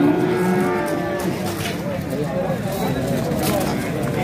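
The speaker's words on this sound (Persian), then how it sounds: "این گاوی باشه" A cow moos loudly and nearby at a livestock market in Mastchoh, amid steady crowd noise and people talking in the background.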